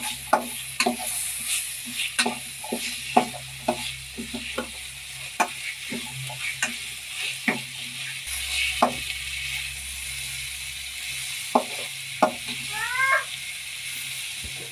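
Cooked field beans stirred in a pan sizzle quietly while a spoon scrapes and taps the pan in a steady series of sharp, close strokes, with a brief squeak near the end.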